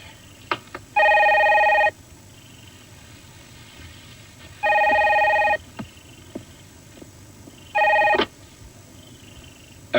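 An old-style telephone bell rings in three loud bursts with pauses between them, alone in a quiet room with faint background noise and a few small knocks.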